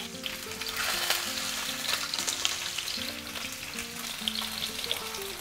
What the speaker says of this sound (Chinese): 注意一下，贴着锅子的这一面是不是已经煎到金黄了？